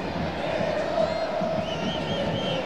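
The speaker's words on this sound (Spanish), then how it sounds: "levantan, por supuesto, aplausos y gritos de los chiquitines que siguen aquí a toda la banca" Stadium crowd at a Club León versus CS Herediano football match, a steady wash of applause and children's shouts that stays constant throughout.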